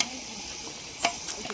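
Chopped onions sizzle in a pan at an outdoor farm cookout, a soft steady frying hiss with a few sharp spoon scrapes and clinks against the pan.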